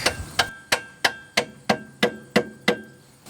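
A rubber mallet taps a steel mounting bolt on the rear brake of a 2008 Hyundai Elantra, ten sharp, evenly spaced knocks with a faint metallic ring, close and loud with no talking.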